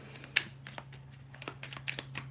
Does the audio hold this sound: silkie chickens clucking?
no